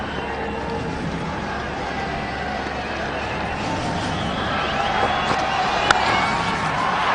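Cricket stadium crowd roaring after a shot by Sachin Tendulkar at an India versus Australia one-day international, a broad sustained distant cheer that swells slightly toward the end, with commentary over it.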